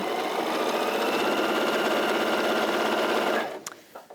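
A sewing machine stitches steadily through thick fabric, a loud fast mechanical whir that runs without a break for over three seconds and then stops, followed by a few faint handling clicks.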